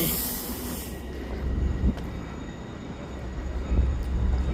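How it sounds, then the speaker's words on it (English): A commuter rail cab car at Babylon station gives off a steady hissing, like escaping steam or air, with low rumbling and a few soft clanks underneath. "How come the cab cars always make that steaming sound?"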